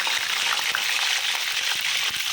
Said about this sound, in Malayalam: ഞാൻ എണ്ണയിൽ ഇതെല്ലാം ഒന്ന് വറുത്ത് കോരി എടുക്കട്ടെ കേട്ടോ